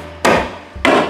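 A Harbor Freight staple hammer drives staples through tar paper on a shed kit, striking twice with loud, sharp close thwacks about half a second apart. Each hit rings on briefly afterward.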